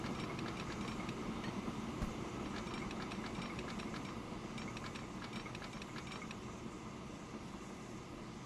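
A train running in the railway video game Transport Fever, a steady mechanical rumble with repeated creaks and rhythmic clicking of wheels, fairly quiet and unbroken, with no talking.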